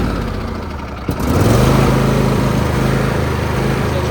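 A riding lawn mower engine turns over and starts about a second in, then runs at a steady, loud idle close by, with no talking over it.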